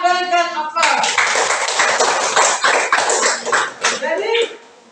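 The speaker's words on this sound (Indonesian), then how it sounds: "Ya, berikan aplaus." A classroom of students bursts into a dense, steady round of applause that lasts several seconds and then tapers off, following a voice at the start.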